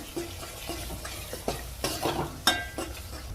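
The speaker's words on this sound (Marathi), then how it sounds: "लाल तिखट टाकून घेऊया मिसळचा हा मसाला टाकून घेऊया धनिया पावडर मिक्स करून घेऊया" Misal masala being stirred in a pan with red chili powder and coriander powder, giving a run of scraping and sizzling strokes with a few sharper spoon taps; no talking.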